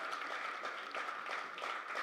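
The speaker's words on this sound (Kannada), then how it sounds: "ಒಂದು ದೊಡ್ಡ ಚಪ್ಪಾಳೆ ಅವರಿಗೆ." Steady crowd applause at the SBPL cricket logo launch event, a fairly soft but unbroken patter of many hands clapping together.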